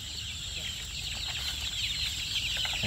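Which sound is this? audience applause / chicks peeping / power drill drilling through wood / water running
chicks peeping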